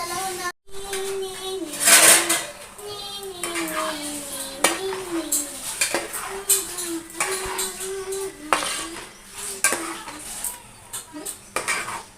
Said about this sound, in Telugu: ఇప్పుడు పాలకూర మొత్తం ఉడికేంత వరకు ఇలాగే ఫ్రై చేసుకుంటూ ఉండాలి